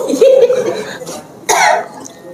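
A short burst of coughing near the microphone, with a voice and some background chatter around it.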